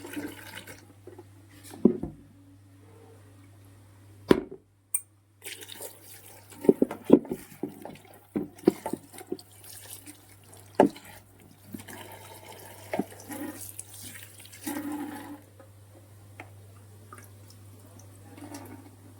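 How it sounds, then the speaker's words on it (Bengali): Cut potatoes being washed by hand under a running tap, with water splashing, scattered clattering and intermittent drips over a quiet background hum, close by and with no talk. "আমি আলুটা এখন ধুয়ে নিচ্ছি ভালো করে"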